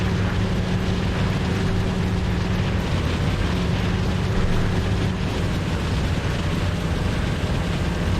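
A World War II fighter's piston engine in IL-2 Cliffs of Dover drones loud and continuous, rough and strained from being run too hard, with a steady low hum and heavy broadband rush that never lets up.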